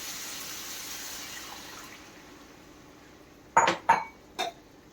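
Water splashes briefly into a pan, followed by a few short clinks and sloshes of kitchenware, with no talking.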